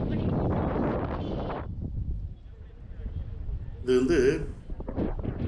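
Strong wind at the seaside in Velankanni buffets the microphone in a loud, rushing roar for nearly two seconds, then eases to quieter gusts as someone talks.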